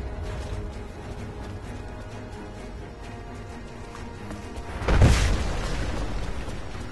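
A trebuchet fires in Rise of the Tomb Raider, one loud, deep booming impact that stands out sharply from a low rumbling game ambience, then a lingering roar.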